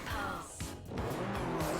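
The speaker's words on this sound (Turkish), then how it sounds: "Efsane bir motor sesi var" A Subaru Impreza engine in the racing game Forza Horizon 4, a brief, fairly quiet burst of engine tone that dips and then rises again, with a hint of tire noise.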